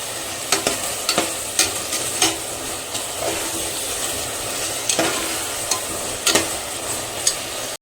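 Mutton biryani masala with whole green chillies stirred in a pot over high flame, a loud continuous sizzle broken by repeated clinks and scrapes of the spoon, no speech.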